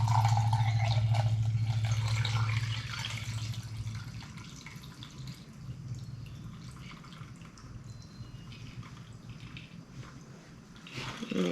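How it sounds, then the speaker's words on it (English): Valerian root tincture poured from a container into a strainer, a loud liquid gush at first that thins to a softer trickle and drip, with a brief splash near the end. "So I'm just going to pour it into the strainer."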